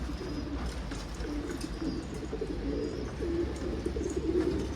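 Domestic pigeons, including a Mardin-type bird, coo in a loft: a continuous soft murmur of overlapping low coos close by, with no talking.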